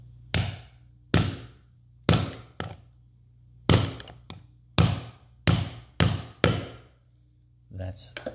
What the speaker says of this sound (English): when I hit it with a hammer it does pop in